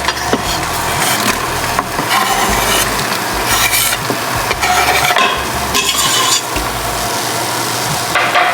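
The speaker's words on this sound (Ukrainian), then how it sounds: "Ось сюди, де смажилися гриби, я докидаю цибулю." Onion is added to frying mushrooms, sizzling in a pan as a wooden utensil stirs and scrapes repeatedly, close and loud, with no talking.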